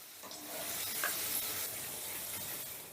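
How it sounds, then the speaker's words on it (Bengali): Potato pieces fry in mustard oil over a high flame, giving a steady, broad sizzling hiss with faint stirring scrapes and no talk. "গ্যাসের আঁচটা কিন্তু এখন হাইতেই রেখেছি আলুগুলোকেও বেশ লাল লাল করে ভেজে নিয়ে এবারে তুলে নেবো"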